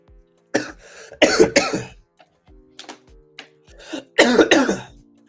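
Several harsh, rasping coughs come in bursts, a pair early and a cluster near the end, close and loud with quiet gaps between.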